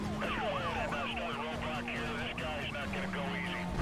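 Police sirens wail in the racing game Need for Speed: Most Wanted (2005), several overlapping sweeping tones over a steady engine drone, loud and continuous, with a voice talking over them.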